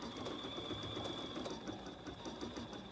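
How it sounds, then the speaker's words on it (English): A BERNINA sewing machine embroiders a garden flag, giving a steady, continuous mechanical whir with a thin high whine throughout at moderate volume. "And I'm going to start sewing."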